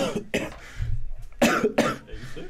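Several harsh coughs in quick bursts, close by, with short pauses and a little breathy noise between them.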